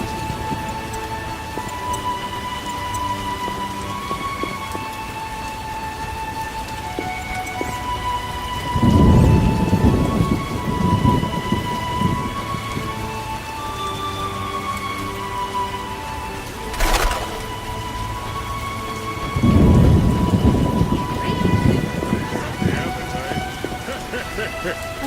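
Steady rain falls through a thunderstorm in The Witcher Enhanced Edition, with two heavy rolling thunder bursts and a sharp crack between them, and a game score plays underneath.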